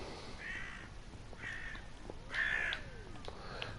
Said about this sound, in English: it sounds like the bird's getting closer with like the headphones on